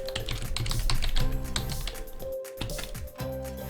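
Rapid, close typing on a computer keyboard while a password is entered during a Kali Linux install, with clear keystrokes in quick bursts and a short pause partway through.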